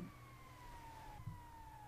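Ambulance siren in the GTA Online video game, a faint steady wail with a slowly falling tone, heard briefly and alone.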